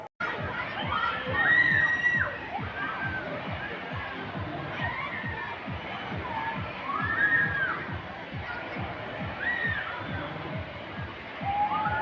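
Riders scream and shout together on a fast amusement park ride at a fun land, their cries rising and falling in waves over a rhythmic mechanical rattle of the ride.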